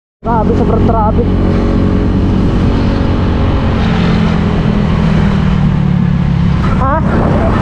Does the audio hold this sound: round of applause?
no